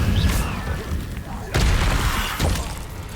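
The Incendio fire spell in Hogwarts Legacy is cast repeatedly, each cast a sharp burst with a crackling, shattering blast, loud and close, with someone speaking between casts.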